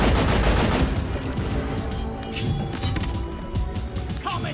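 Rapid automatic gunfire in Deep Rock Galactic rattles in dense, loud bursts that thin into scattered shots and thumps, with a voice talking over it.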